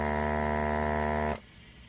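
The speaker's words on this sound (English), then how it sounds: "I just suck it up with this thing. It has a little vacuum in it." A Hakko FR300 desoldering tool's built-in vacuum pump runs with a steady, close electric hum, then cuts off abruptly near the end.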